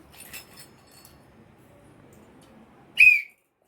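A single short, shrill whistle rings out near the end after a stretch of quiet clinking, loud and close.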